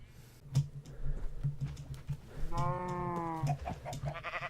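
Sheep and cow bleating in the Minecraft video game, short game-animal calls repeating over a steady low hum with clicking in the background, moderately loud and close.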